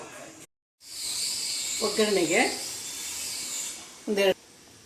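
Green gram gravy masala with tamarind juice being finely ground with water in an electric mixer, a steady high-pitched whirring motor that stops briefly and restarts, with a voice speaking over it.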